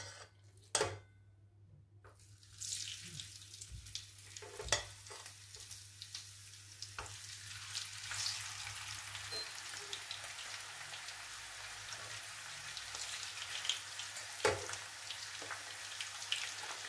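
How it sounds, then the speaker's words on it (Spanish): Pieces of rabbit frying in hot oil in a pan, a loud, steady crackling sizzle that builds and holds throughout, broken by a few sharper pops and spatters. "Y lo freiremos vuelta y vuelta"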